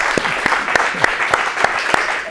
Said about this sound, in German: Das ist Ihr Applaus.